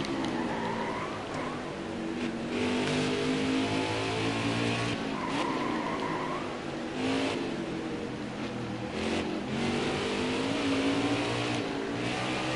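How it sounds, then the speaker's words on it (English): Xfinity Series race car in NASCAR Heat 4 at Mid-Ohio, heard from the in-car view: a loud, continuous engine drone that rises and falls through gear changes, with brief tire skids on the corners. "we'll give you a feel of what it's like to ride inside the Xfinity Series car here at Mid-Ohio"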